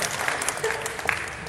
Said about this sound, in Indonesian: Tepuk tangan dong buat Ayo Foto